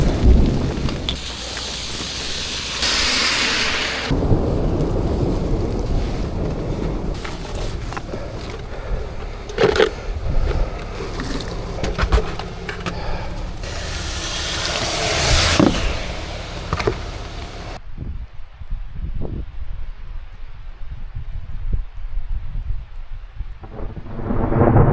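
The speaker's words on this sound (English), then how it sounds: "That was a nasty storm that we went through." Thunderstorm with heavy rain and rolling thunder during a smelt-dipping outing, a loud continuous roar of rain with deep rumbles and sharp cracks, easing to a quieter patter near the end.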